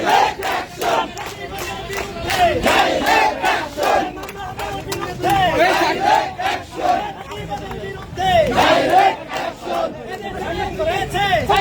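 A large crowd at a student rally in Bangladesh chants slogans in loud rhythmic unison, a lead voice calling out and many voices answering in repeated waves, with shouting and chatter between the chants.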